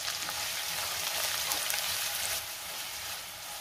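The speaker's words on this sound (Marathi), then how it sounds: "कांदा थोडा लाल होईपर्यंत मी परतून घेणार आहे" Chopped onion frying in hot oil while tempering a moong dal amti, a steady close sizzle running unbroken and alone, dipping slightly toward the end.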